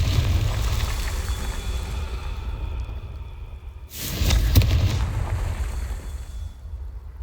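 A Confringo blasting spell explodes in the Hogwarts Legacy video game, a sudden burst and booming rumble midway through, set against a continuous low ambient drone.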